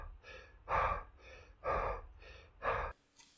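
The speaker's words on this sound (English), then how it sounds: "It's just me just like breathing on beat." A person breathes rhythmically on the beat as a sound effect in a song, three strong breaths alternating with softer ones in a steady pulse, close and dry.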